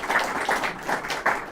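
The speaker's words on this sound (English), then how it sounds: "Want to give a huge round of applause" An audience claps after a capitalism versus socialism debate, a brief, close round of applause that swells in uneven pulses.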